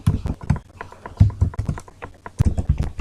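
Rapid keystrokes on a computer keyboard while C code is typed in an editor, clustered into quick bursts of clicking taps with short pauses between, close and fairly loud, with no talking.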